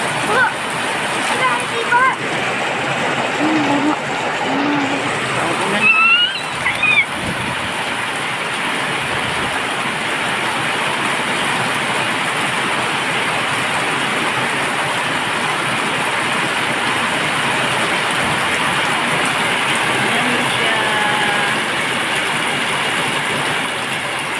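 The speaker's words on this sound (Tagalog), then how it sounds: "Lord, umulan na." Heavy rain pours down steadily amid flooding, a dense, loud hiss of water splashing on surfaces, with brief voices early on.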